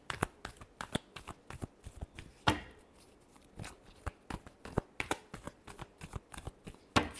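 Tarot cards are shuffled in a close, quiet series of sharp slaps and riffles with uneven rhythm and a few louder snaps, with no voices.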